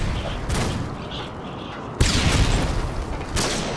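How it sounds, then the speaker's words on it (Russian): A stun grenade goes off in a multiplayer shooter video game: a sharp broadband burst at mid-clip followed by a loud, ringing wash of noise, with earlier thumps and gunfire-like bursts in a noisy battle mix. "Бросай стан гранату."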